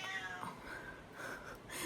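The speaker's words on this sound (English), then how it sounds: "my cat wants to go out." House cat meowing to be let outside, a soft, somewhat distant wheezy meow that drifts over quiet room noise, with no talking.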